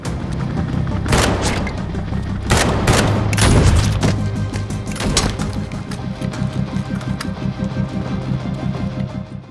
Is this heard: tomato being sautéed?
no